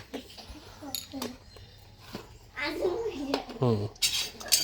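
A metal cooking pot and lid clank and scrape as they are set down on a gas stove in a home kitchen, several sharp knocks between bursts of talk, with a voice nearby.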